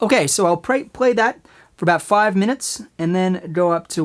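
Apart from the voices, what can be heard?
None of the usual background noises is heard.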